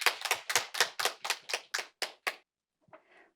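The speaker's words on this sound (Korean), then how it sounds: "박수 부탁드립니다." About ten separate hand claps land in a fairly quick, even rhythm from a small number of people, close and clean, then stop, followed by a faint brief rustle.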